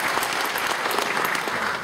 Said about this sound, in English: how about a great round of applause for band and choir today?